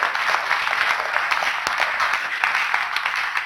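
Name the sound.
audience applause for the speakers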